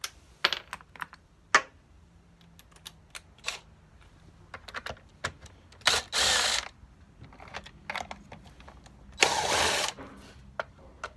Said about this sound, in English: we've got 3 screws here on the top we've got to remove